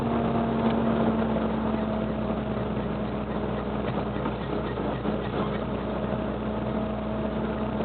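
A Volvo FH cane-hauling truck pulls uphill in fourth gear at about 1400 rpm, a loud, steady low engine drone with a constant hum, heard from inside the cab with no talk.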